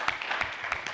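An audience applauds the organizing team at a business conference, a brief spell of moderate clapping with distinct sharp claps standing out from a softer patter.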